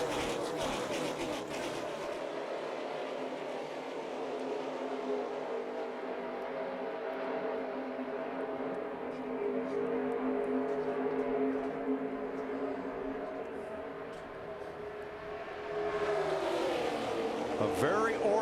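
NASCAR stock cars thunder down the back straightaway at Daytona during the Daytona 500, a steady engine drone that swells as the field passes, with commentators talking throughout.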